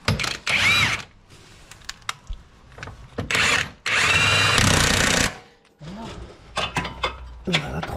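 A power tool drives screws during a turbo change on a Porsche Turbo S, sounding in several loud whirring bursts of about a second each, separated by clanks and rustling, with a person talking between them.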